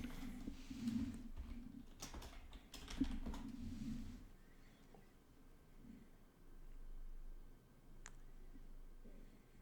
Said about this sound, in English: So what I'm going to do is type in pass.